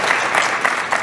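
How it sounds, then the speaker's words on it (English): Audience applause for conference leaders, steady dense clapping at moderate loudness for about a second, with no voices standing out. "So a huge round of applause to our leaders."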